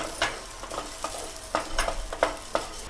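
Dry rice being roasted and stirred in a pan until it browns, with short irregular scraping and rustling strokes repeating every half second or so, close and fairly quiet, no talk.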